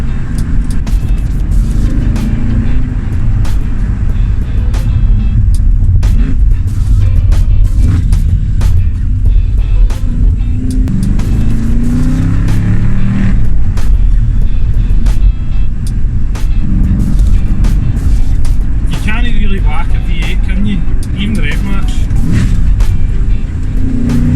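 Loud, continuous Ford Focus ST Mk3 engine drone while driving, rumbling steadily with occasional surges of revving and shifting pitch, no voices.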